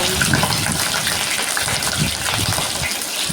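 A kitchen tap running hard, with water gushing strongly in a loud, steady, unbroken rush close by.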